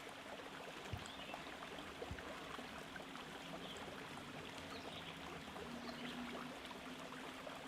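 A sizeable river stream flows past with eddies and spots where the current quickens, giving a soft, steady rushing and trickling wash that stays faint and even throughout.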